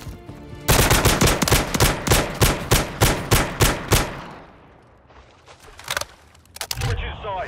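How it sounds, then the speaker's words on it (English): Submachine gun fire in a search and destroy match on a favela map in a video game: a rapid, evenly spaced string of a dozen loud close shots, then quieter scattered clicks and thumps. "Alright, I'm on submachine gun."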